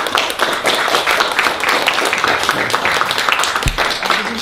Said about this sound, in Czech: Tak, veliký potlesk.